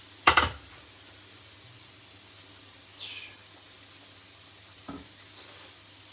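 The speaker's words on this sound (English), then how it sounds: "Giving this a bit of a stir, make sure these aren't sticking together like these ones." Spicy meatballs simmer in a tomato and herb sauce as they are stirred in a pan. Quiet overall: one sharp clatter at the start, then faint soft scrapes and a short knock, with no talking.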